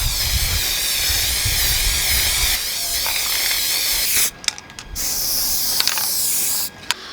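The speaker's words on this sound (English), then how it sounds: "I went and spray painted them with this cream spray paint that I have in the house." Aerosol cream spray paint hisses loudly in long continuous bursts onto rusted metal plates, with short pauses between sprays and a few faint clicks of the nozzle.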